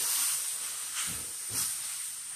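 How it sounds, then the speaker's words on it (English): London broil sears in a hot pan with a continuous moderate hiss, swelling briefly twice as the meat is shifted. "That's that sear I was looking for."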